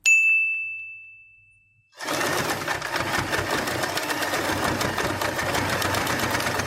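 A sewing machine stitches a fabric Christmas headband, running steadily and loudly after a short bright chime rings out and fades.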